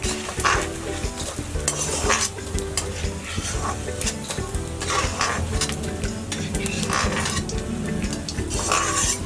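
Edible gum (dink) fries in a kadhai, sizzling while a utensil scrapes and stirs repeatedly, with clinks of metal against the pan over steady frying noise.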